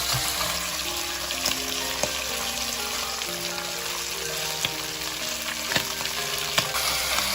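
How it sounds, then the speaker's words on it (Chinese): Pork liver frying in hot oil, a steady bright sizzle with occasional small crackles and pops, close and continuous with no talking. "把猪肝放进来煎"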